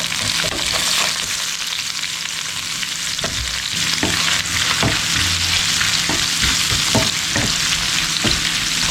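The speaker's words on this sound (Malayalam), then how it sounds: "പിന്നെ ഒരു 5-6 ചെറിയുള്ളി ചെറുതായി അരിഞ്ഞത്, പിന്നെ നേരത്തെ നമ്മൾ മാറ്റി വെച്ചിരിക്കുന്ന തേങ്ങാക്കൊത്തില്ലേ അതിട്ട് കൊടുക്കുകയാണ്." Sliced shallots and coconut pieces frying in hot oil in a pan for Kerala-style chicken varattiyathu, a steady loud sizzle with occasional stirring clicks and scrapes, no talking.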